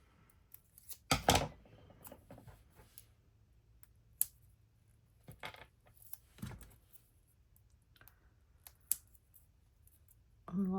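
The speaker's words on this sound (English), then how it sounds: "Cut our little pad in half." Scissors snip through a small craft pad, a few separate crisp cuts and clicks spaced out over quiet handling noise, close and fairly faint.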